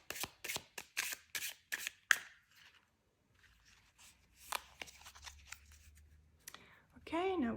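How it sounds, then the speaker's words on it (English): Deck of reading cards being shuffled, a quick series of crisp riffling slaps for about two seconds, then softer scattered card handling and brief rustles close by. "So we're just gonna give it a shuffle."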